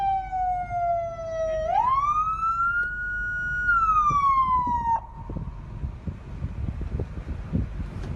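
A police car siren wails in one long rising and falling sweep, loud and steady, then cuts off abruptly, leaving a rumbling background of wind and traffic noise.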